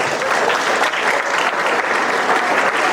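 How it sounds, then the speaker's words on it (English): A large audience gives a dense, loud round of applause for conference participants, continuous and even from start to finish with no speech. "So please give them a huge round of applause."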